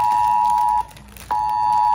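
A mobile phone's emergency alert sounds a loud, steady electronic tone that breaks off briefly and then resumes, close and piercing, with no voice over it.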